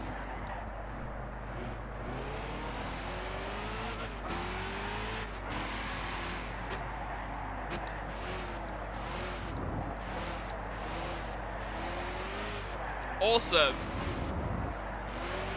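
A Chevrolet pickup truck engine racing in Gran Turismo 6 drones steadily, its pitch rising and falling through gear changes. A voice briefly speaks over it near the end.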